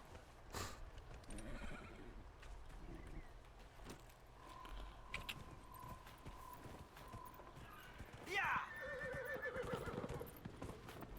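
A horse in Dragon Age: Inquisition whinnies loudly near the end, over steady hoofbeats and a busy game background with a sustained tone, during a battle.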